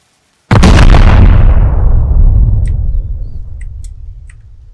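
A single very loud, close explosion in Rust hits suddenly after a moment of silence and then decays in a long rumbling tail, with faint clicks scattered late.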